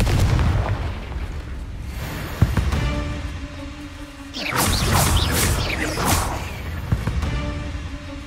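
A Confringo spell blast in Hogwarts Legacy lands as a sharp impact, then a louder burst of crackling, booming fire a couple of seconds later, over a low game ambience.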